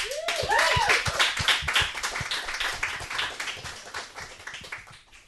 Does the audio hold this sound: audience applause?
yes